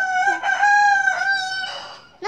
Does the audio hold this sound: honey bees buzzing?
no